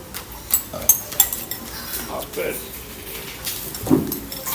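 Pots and metal utensils clinking and scraping while Mama instant noodles are boiled, with a few sharp taps and clanks up close and talk going on in the background.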